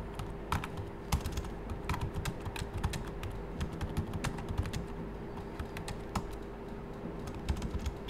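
Steady typing on a computer keyboard, entering an answer into a Word document during an exam software demonstration: rapid, irregular key clicks running continuously for the whole stretch over a low steady hum, with no voices.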